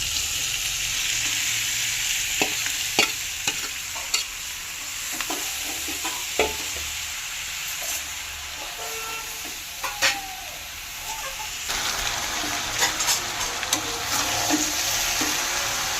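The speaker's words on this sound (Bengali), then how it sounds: "এবারে ভেজে রাখা চিংড়ি মাছ আর আলু দিয়ে দেবো।" Fried prawns and potatoes go into a jackfruit curry and are stirred, giving a steady close sizzle of oil with sharp clicks and scrapes of the spoon against the pan throughout.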